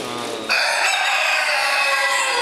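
A Strumska chicken calls loudly and close, a drawn-out, strained clucking cry that rises and holds for a couple of seconds.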